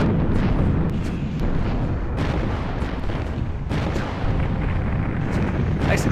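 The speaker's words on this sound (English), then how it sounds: "Nice explosions, though." Space battle explosions from the video game Nexus: The Jupiter Incident, a dense, continuous roar of booms and blasts with several sharper bursts layered on top, loud throughout.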